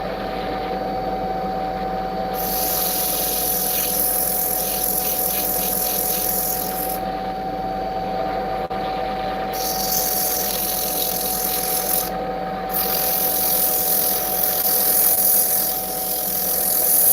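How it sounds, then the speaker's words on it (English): Wood is worked with a power sander, a continuous hissing, whirring grind with steady tonal hum that shifts in intensity across the stretch, heard alone without talk. "We'll do some sanding, see how it looks."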